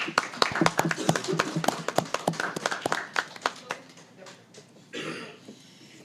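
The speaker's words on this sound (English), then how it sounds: "Let's give them a round of applause for all they do for Buchanan." A small group claps in appreciation at a city commission meeting, the sharp hand claps quick and irregular, a scattered patter that thins out toward the end, with a brief murmur and shuffle at the close.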